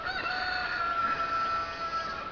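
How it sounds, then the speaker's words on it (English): A neighbor's rooster crows once in a drawn-out cock-a-doodle-doo, moderately distant over a quiet outdoor garden background. "Neighbor's rooster."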